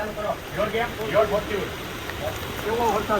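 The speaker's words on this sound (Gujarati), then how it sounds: "ચાલુ વરસાદ અત્યારે મારી પર વરસાદ પડે છે" Rain falls outdoors during a live shooting celebration, a steady wash of patter that continues under a person talking close by throughout.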